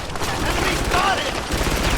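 Gunfire in the Frontlines: Fuel of War video game, a dense, continuous fusillade of rapid shots under shouted battlefield voices throughout.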